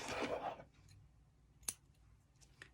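A single quick snip of scissors cutting the fuzzy yarn ends of a crocheted dishcloth, a short sharp click heard alone after a brief rustle of handling, with a fainter second snip near the end.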